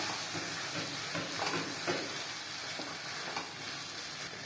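Grated egg is stirred into tomatoes frying in a pan, giving a steady sizzle with scraping stirring strokes throughout.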